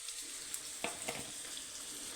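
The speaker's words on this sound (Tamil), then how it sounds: "மீன் பொரிஞ்சிட்ருக்குது" Fish frying in a pan at home for a fish curry meal, a steady soft sizzle of oil with a few brief stirring clinks and scrapes, close and continuous with no talk.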